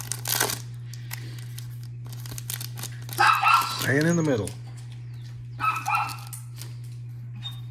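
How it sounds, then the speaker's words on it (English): A dog barks a few times in the background at a card show, brief yelps set behind nearby speech, with a steady low hum and paper crinkling throughout. "This is a dog in the background."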